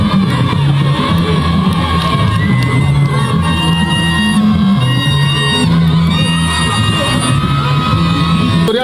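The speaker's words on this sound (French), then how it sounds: "le Premier ministre chef du gouvernement est accueilli par une foule nombreuse" Large crowd gathered to welcome the Prime Minister, loud sustained cheering and yelling with whoops and shouts, mixed with drumming or music that runs throughout.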